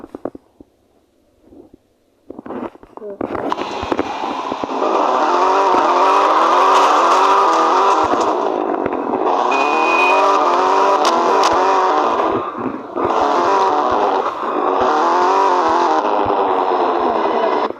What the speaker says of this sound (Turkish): Hafiften dinleteyim arabanın sesini.